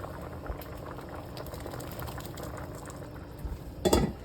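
Jamaican stew peas simmer in a pot, giving a low, steady bubbling texture with a brief clatter near the end.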